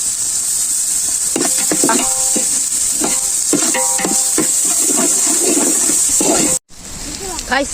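Ginger garlic paste fries in hot oil for chicken biryani, a loud, constant sizzle close by, with scraping and stirring knocks from a utensil throughout and a brief cut near the end.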